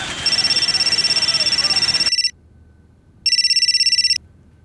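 A telephone rings loudly with a bright, trilling electronic tone in two bursts: a longer ring, a short silence, then a second ring.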